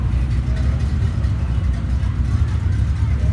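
An old truck pulls away at a historic Main Street car show, its engine giving a steady low rumble close by for a few seconds, with faint voices in the background.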